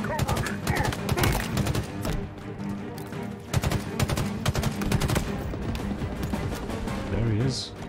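Battle rifle gunfire in the shooter Halo Infinite comes in repeated sharp bursts amid a dense battle din, with voices talking over parts of it.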